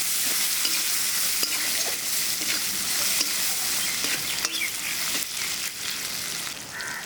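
Spices frying in a pan with salt and chopped tomato being stirred in, a loud continuous sizzle with scraping strokes of the spoon, for a katla fish curry, no talking.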